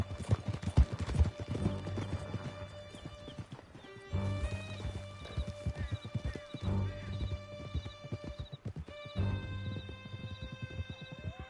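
A ridden horse gallops hard, its hooves pounding in a quick steady rhythm, with whinnies and rattling tack over a tonal music bed, close and loud throughout.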